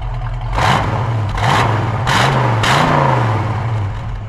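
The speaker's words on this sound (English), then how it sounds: "would you mind to go ahead and give it a little gas for us? Beautiful GT dual exhaust." A 1965 Ford Mustang GT coupe with dual exhaust revved in a showroom, four quick throttle blips rising and falling over a steady rumbling idle, close and loud with no voices.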